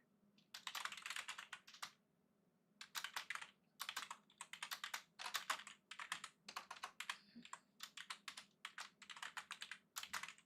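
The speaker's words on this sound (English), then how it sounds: "Type this in here real quick." Computer keyboard typing in bursts of rapid keystrokes separated by short pauses, close and fairly quiet, with no talking.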